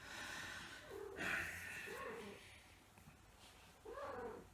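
Cat meowing softly indoors, a few faint drawn-out meows and snorting breaths against a quiet background.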